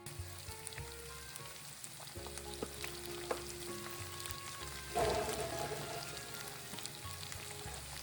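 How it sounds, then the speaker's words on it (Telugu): Potato pieces fry in hot oil in a pan for Bengali aloo posto, a steady sizzle with occasional stirring scrapes and a louder burst of crackling midway, close and without speech. "Fry potato until it become golden brown."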